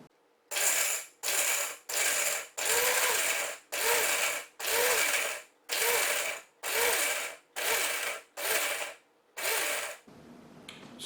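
Blender pulsing frozen cranberries for a drink mix, about a dozen short, loud bursts of motor whir and chopping, each lasting roughly half a second and separated by brief silent gaps.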